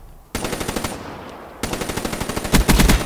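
HVK-30 assault rifle in Call of Duty: Black Ops 3, firing two loud rapid automatic bursts of evenly spaced shots with a brief pause between, the second burst growing heavier near the end.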